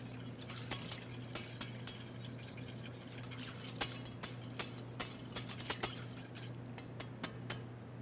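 Cornstarch being whisked into cold apple juice in a bowl, a rapid run of light metallic clinks and taps of the whisk against the sides, close and fairly quiet, with no voices.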